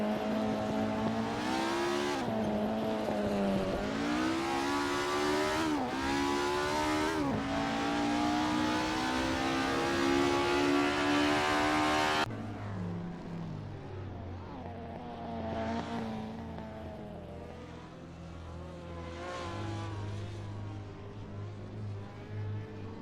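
Several 1950s Formula One race cars roar around Le Mans in a video game, engines rising and falling in pitch as they accelerate and pass, loud and continuous, with a sudden shift to a different car sound partway through.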